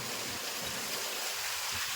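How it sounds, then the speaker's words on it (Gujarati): Steady, hissing rainfall, constant and enveloping with no distinct drops or voices. "હજી વરસાદ ચાલુ છે"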